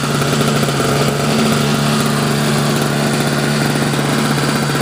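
Sears snowblower engine, cleaned out and rebuilt, running with the choke fully off: a steady, close, loud small-engine drone that holds an even idle throughout with no talk over it.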